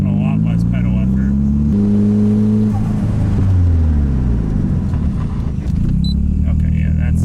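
A Nissan Pulsar GTI-R with newly fitted brakes drives along, its engine note rising and falling through gear changes in a close, loud in-cabin rumble, with voices in the car.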